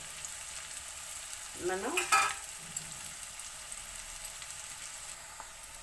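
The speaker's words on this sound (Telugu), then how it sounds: "ఇంకా చూడండి, వేగుతున్నాయి కదండి." Amaranth leaves (thota kura) frying in a pan, a steady soft sizzle running throughout with a few brief stirring scrapes near the middle and a short spoken word over it.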